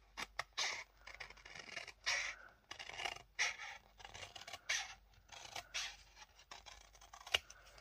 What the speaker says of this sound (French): Alors j'utilise ces ciseaux-là.